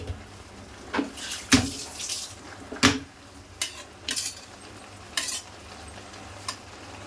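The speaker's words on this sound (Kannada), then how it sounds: "ಸ್ವಲ್ಪ ಇದು ಮೊಟ್ಟೆ ಸ್ವಲ್ಪ ಕುಕ್ ಆದಮೇಲೆ ಚಮಚದಿಂದ ಮೆಲ್ಲಿಗೆ ಉಲ್ಟಾ ಮಾಡಬೇಕು" An egg cooking in a pan is turned gently with a spoon, giving a soft sizzle under repeated metal taps and scrapes that come in irregular bursts.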